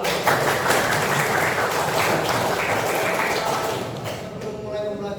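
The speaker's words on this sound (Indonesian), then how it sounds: "Tepuk tangan buat kita semua." Applause from a class of students in a school classroom, a dense sustained clapping that fills the clip and tapers slightly toward the end, with some voices mixed in.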